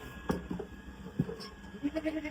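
A goat bleats a few times, short wavering calls at moderate distance, with other faint farmyard noises around them.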